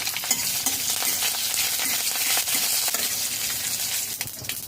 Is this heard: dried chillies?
yes